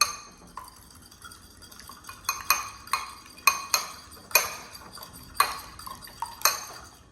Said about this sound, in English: I'm gonna have 2 eggs here that we're gonna cook up. And I'm gonna go ahead and whisk these.